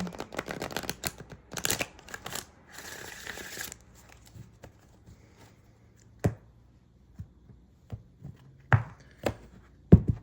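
Tarot cards being shuffled by hand for a full moon reading: bursts of rapid riffling and flicking, then quieter stretches broken by single sharp taps and snaps, close up with no voice.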